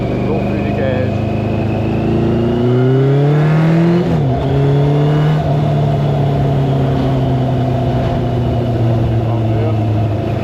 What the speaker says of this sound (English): So I'm going to show you some of the power that the bike has got and go through the gears.